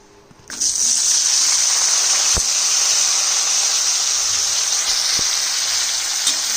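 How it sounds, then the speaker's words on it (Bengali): Marinated eggplant pieces dropping into hot oil and frying, a loud sudden sizzle that swells at once and keeps up a steady hiss with faint crackles, close by and without talk. "এই ম্যারিনেট করে রাখা বেগুনের টুকরো কটা ছেড়ে দিয়ে সুন্দর লাল করে ভেজে তুলব"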